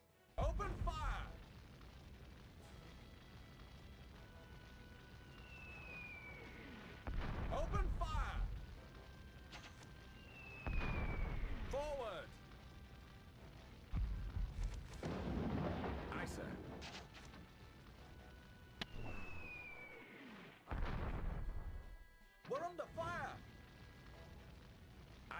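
Artillery fire in a Warhammer video game booms in heavy, deep blasts at intervals of a few seconds, each followed by a rumbling tail, with whistling projectiles, game sounds and speech in between.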